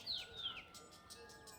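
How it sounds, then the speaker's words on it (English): A bird nesting in a blue birdhouse gives two quick, high, descending chirps, followed by faint, softer calls in a quiet outdoor setting. "There's actually a bird in it right now, and he's making a nest in it."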